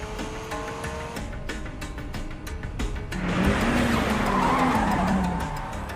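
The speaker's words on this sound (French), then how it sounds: "il contrôle parfaitement ses dérapages" Anime race car drifting on a bumpy mountain road, a loud engine roar giving way to sustained tire squeal and skidding that rises and wavers for several seconds, close and with no voice.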